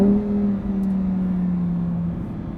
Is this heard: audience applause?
no